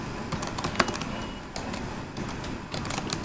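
Rapid clatter of keys on a computer keyboard, steady and close, with a few sharper taps standing out and no voices.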